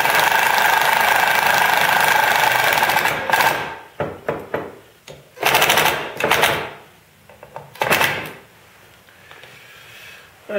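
A worn-out impact driver bangs as screws are snugged into a wooden vise, a long loud rattling run followed by several short separate bursts and pauses.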